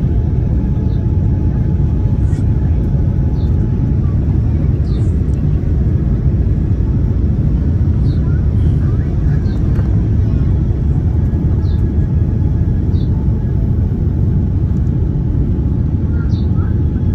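Loud, steady low engine rumble and broadband roar inside an airliner as it lands in Singapore, continuous throughout with faint higher chirps, no talking.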